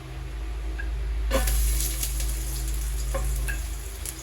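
Garlic drops into hot oil for a ginger chicken tinola and bursts into a loud, steady sizzle that stays close and continuous, with no talking.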